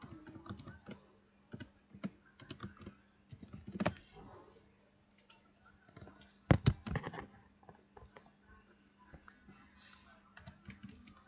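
Rapid, uneven keystrokes on a computer keyboard as a table-creation command is typed into a command prompt for a XAMPP database server, with clustered bursts of clicks over a steady low hum and no talking.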